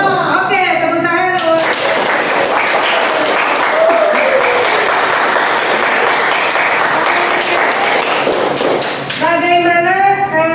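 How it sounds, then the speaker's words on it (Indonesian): A classroom of students bursts into applause during a chemistry lesson, dense clapping sustained for several seconds, loud and close, with voices talking just before and after. "Oke, tepuk tangan."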